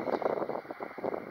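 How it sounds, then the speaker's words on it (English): Gusting wind buffets an outdoor microphone, producing low rumbling thumps and rough blustery noise over a short stretch, with no voices. "It's a little bit windy today, so I'm sorry about my wind problems"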